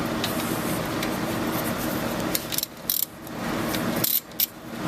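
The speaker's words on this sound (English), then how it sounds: "So let's start by removing these 2 12 millimeters." A ratchet turning 12 mm bolts off the rear brake of an Acura MDX makes a steady, close, fast clicking whir, broken by brief pauses and a few short metallic taps near the end.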